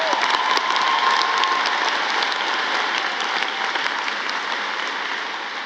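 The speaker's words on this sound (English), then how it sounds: "A round of applause for class of 2024." Sustained, dense applause from a large audience at a college commencement ceremony, steady and loud throughout with a slight fade near the end.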